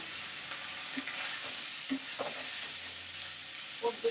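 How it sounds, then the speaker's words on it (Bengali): Small puti fish fry in a hot pan of oil left over from frying hilsa, a steady close sizzle with a few soft clicks and utensil taps scattered throughout. "কড়াই গরম হয়ে গেছে, দিয়ে দেবো সবগুলো পুঁটি"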